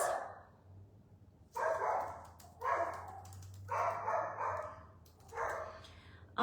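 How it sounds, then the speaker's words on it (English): A dog barks indoors in four or five loud, separate bursts spaced about a second apart, close to the listener, with a low hum beneath and no talking. "this is not gonna work if she just barks during the whole video"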